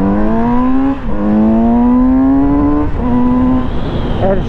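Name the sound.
Kawasaki Z900 RS motorcycle engine with stock exhaust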